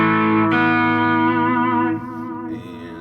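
Electric guitar through an ODR overdrive pedal in a pedalboard rig, with echo added, ringing out as a loud sustained chord that shifts twice and decays with a slight repeat.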